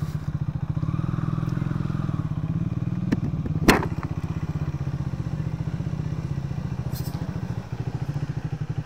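A Triumph motorcycle engine idles close by with a steady, throbbing low rumble, broken by a sharp clack and a few light knocks partway through; no voices are heard over it.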